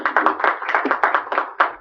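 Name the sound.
audience applause for Kim Jin-a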